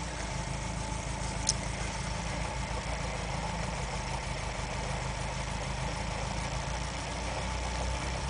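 A Ford Pinto engine idles steadily with a deep, rumbling vibration from a faulty alternator bracket, shaking the whole car, holding constant throughout, with a brief faint click partway through.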